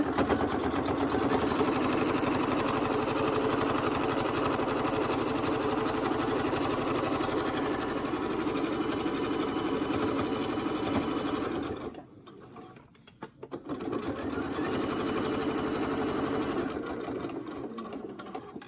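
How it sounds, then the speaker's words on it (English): Face mask fabric is sewn on a sewing machine running in a long, steady, loud whir. It halts briefly near the end, then resumes for a few more seconds. "I'm just gonna sew it"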